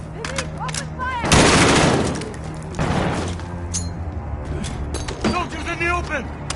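Bursts of automatic gunfire in a Modern Warfare campaign battle, loud rattling volleys with single shots between them, under shouted soldier voices calling orders.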